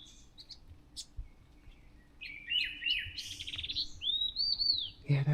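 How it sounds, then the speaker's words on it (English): A bird chirps in the morning, a few faint notes at first, then a louder run of quick twittering phrases and a rising whistled call, close and clear over a quiet outdoor background. "There's a bird in that direction too."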